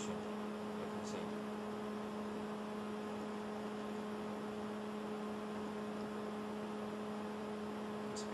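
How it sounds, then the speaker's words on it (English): Pallet stretch wrapping machine running in a packaging setting, a steady electric hum with a constant whir and faint clicks throughout. "About this machine, pellet stretch wrapping machine."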